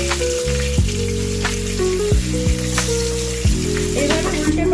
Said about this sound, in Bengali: এবার আমি মাছগুলোকে হালকা করে ভেজে নেব